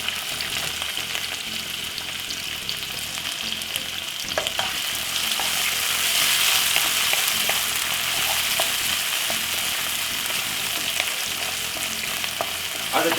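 Spring onion, tomato and white onion frying in oil for a Caribbean home-cooked dish, a loud continuous crackling sizzle that swells slightly midway and holds steady to the end, with no voices.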